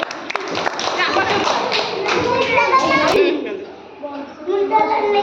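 Young children in a preschool shape-sorting classroom activity clap together, a burst of quick, close taps mixed with an adult's voice and children's chatter, then a brief lull before talk resumes.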